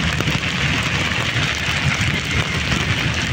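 Heavy tropical downpour in the Philippines, a loud, dense and continuous hiss of rain pounding surfaces, steady throughout with no voices.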